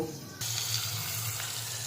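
Fish heads sizzle steadily in hot oil for a murighonto dish, a sudden loud hiss that starts after a brief quieter moment and holds with no talk.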